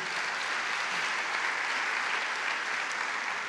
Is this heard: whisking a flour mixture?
no